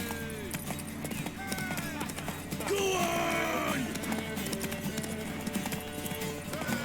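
Horse hooves clip-clop in The Witcher 3 video game, a steady rhythmic trot at moderate distance beneath in-game voices, music and other game sounds.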